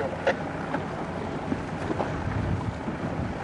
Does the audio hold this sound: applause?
no